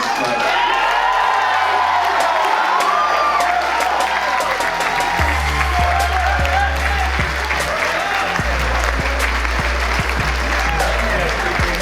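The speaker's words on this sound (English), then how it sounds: "Can we all just please give another round of applause for the chairman?" A large audience claps loudly and without pause, with cheers and whoops rising through the dense applause after a speech, and voices can be heard in the crowd noise.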